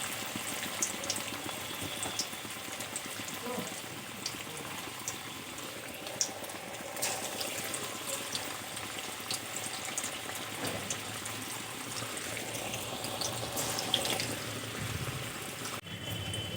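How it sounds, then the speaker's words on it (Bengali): Cabbage pakoras fry gently in oil over low heat, giving a soft, steady bubbling and light crackle that carries on evenly without pause. "অল্প হিটে ভেজে নিতে হবে, তাহলে কিন্তু ভিতর থেকে খুব ভালো মতো ভাজা হয়ে যাবে।"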